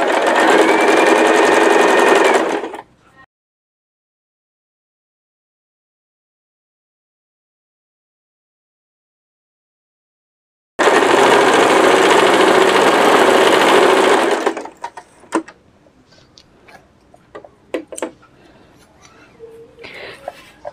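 A sewing machine stitches the sleeves of a suit in two steady, loud runs separated by a long silence. Scattered clicks and handling noises follow the second run.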